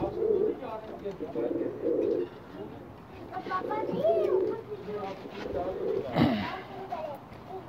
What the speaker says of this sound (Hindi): माशाल्लाह, मेरा बहुत ज़्यादा फेवरेट कबूतर है जी।